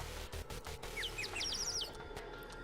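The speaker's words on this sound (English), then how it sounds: "all we can hear is bird chirps" Bird chirps from the video game Chrono Ark: a run of short, bright tweets and trilled calls in the middle, heard over a steady low game music bed with no speech.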